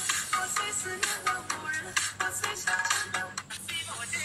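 An electronic phone ringtone for an incoming call plays loud and close in a bright, repeating melodic pattern, continuing throughout without any talk over it.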